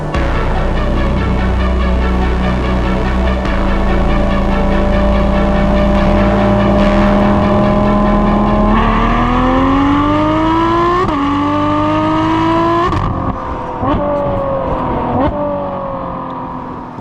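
Ferrari 12Cilindri V12 fitted with a Novitec exhaust, sport catalysts, X-pipe and sport rear muffler, revving loud and close with rising, sustained harmonic engine notes and sharp pitch climbs before dropping back.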